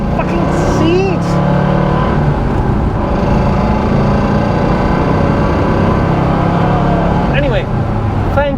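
A 1966 Porsche 912 accelerates from inside the cabin, its engine drone steady and loud with road noise, while a voice talks over it.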